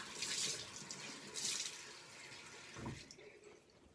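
Warm water runs from a tap in short, faint hissing bursts with brief pauses between them, quiet and close, with no talking.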